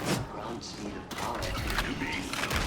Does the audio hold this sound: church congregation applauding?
no